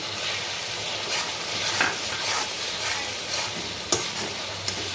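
Tomato puree goes into a frying paste of ground coriander, cumin and chilli for soybean kofta curry, giving a steady close sizzle with stirring scrapes and a few sharp clinks of a spoon against the pan.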